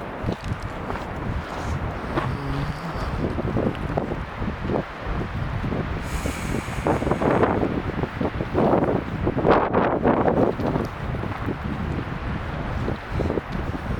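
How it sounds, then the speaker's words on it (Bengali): Strong wind gusts buffet and roar across the microphone continuously on the Gartang Gali trek, with rushing surges rising and falling. "প্রচণ্ড জোরে হাওয়া দিচ্ছে।"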